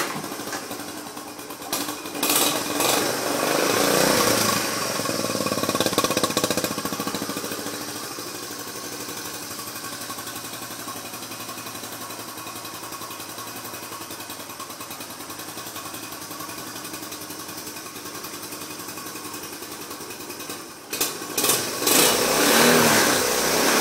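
Small engine fired up and running after an oil change and a fresh tank of gas, a steady buzzing idle for most of the stretch with louder revving bursts near the start and end, close by and without talk.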